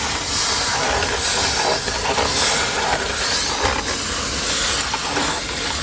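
Steam presses denim jeans with a continuous loud hiss and broad rushing noise, close and unbroken throughout, with small clicks and shifts in the spray.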